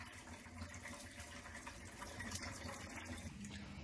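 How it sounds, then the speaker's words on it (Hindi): Cold water running and splashing over fresh chhena cheese in a kitchen while rinsing out lemon sourness, a steady close trickle and spatter with no talk. "अब हम लोग इसको ठंडे पानी से इस तरीके से वॉश कर देंगे"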